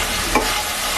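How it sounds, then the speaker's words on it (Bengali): Fried onion paste with cumin and coriander sizzles in a pan for a Bengali egg curry, a constant close frying hiss with one brief stirring scrape partway through. "পেঁয়াজ বাটাটা ভাজা হয়ে গেলে এবার আমি পরপর জিরা ধনিয়া সব দিয়ে দেব।"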